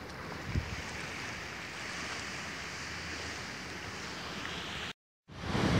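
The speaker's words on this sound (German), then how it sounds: "da kommt noch eine Welle an. Da ist sie." Ocean waves washing onto the beach at Wissant, a steady broad rushing surf with wind buffeting the microphone, cutting out briefly near the end before resuming.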